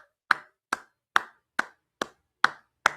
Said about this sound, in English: Come on, clap them.